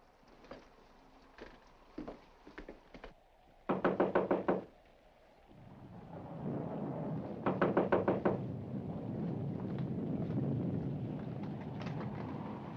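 Knocking on a front door in a 1945 film: several groups of sharp raps, the loudest burst near the middle, set against low rumbling room tone and a swelling noise bed with no talk.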